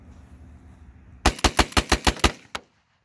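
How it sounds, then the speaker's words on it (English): A Black Aces Tactical S-Max shotgun fires a quick string of about eight loud, sharp shots in rapid rhythm, then falls silent. "we're going to go ahead and put some rounds through this thing"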